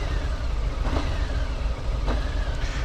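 A Harley-Davidson Fat Bob motorcycle engine drones loud and steady while riding, with heavy low rumble and wind rush, and a couple of brief rises in pitch; no talking.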